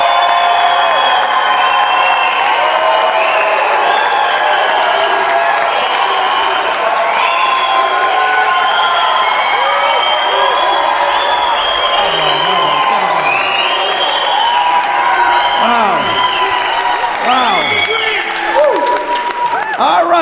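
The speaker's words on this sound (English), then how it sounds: "If you believe the challenger, Kevin, Mr. Wonderful O'Leary, please, let's hear your applause." A large debate audience erupts in sustained applause and cheering, dense clapping mixed with whoops and shouted voices, loud and continuous throughout.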